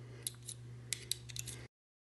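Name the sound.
spanner wrench unscrewing Minolta Rokkor lens back element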